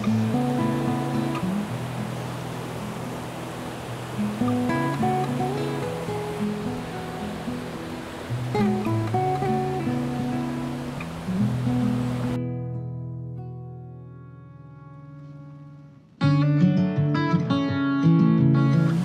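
Fast water of the River Lyn, a small West Country stream on Exmoor, makes a continuous rushing roar with music layered over it; after a brief drop, the music continues more clearly.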